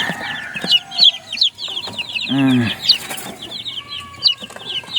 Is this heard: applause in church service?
no